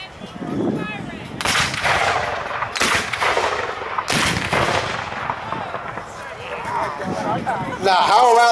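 Civil War reenactment cannons firing in repeated loud booming blasts, several heavy reports a second or so apart, each with a rolling tail, outdoors with crowd noise and voices talking in between.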